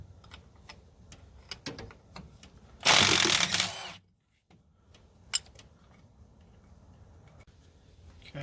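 A close ratchet and socket working a stuck nut on a 4104 bus, one loud rasping burst of about a second among faint clicks and shop noise, then a short silence.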